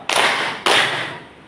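A group of students claps together in unison in a classroom, producing two sharp, loud handclaps about half a second apart, each trailing off in a roomy echo, with no talking.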